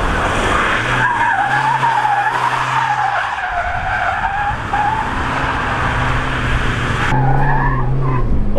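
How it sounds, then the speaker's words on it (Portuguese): A pickup truck drifts sideways with its tires skidding in a loud, sustained squeal over engine roar, easing briefly near the middle before a fresh burst of screeching toward the end. "só a saidinha de lado com a caminhonete, eu já fico todo bobo"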